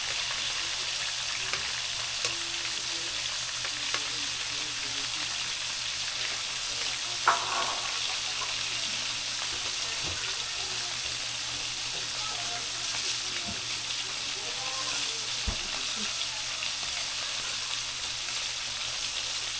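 Garlic fries in a pan with a steady, continuous sizzle and hiss that lasts the whole stretch, with faint voices and a few light clinks in the background.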